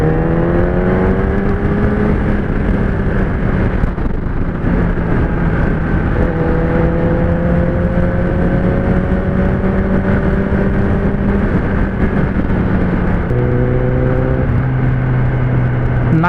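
A supercar driving along a forest road at a bike week event: a loud, sustained engine drone with rising and shifting pitch as it revs through gears, close and constant throughout.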